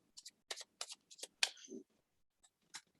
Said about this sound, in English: going to keep shuffling